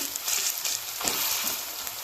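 Drumstick flower fritters frying in oil, a steady close sizzle with soft crackles and a brief stir-like swish near the middle, no voices.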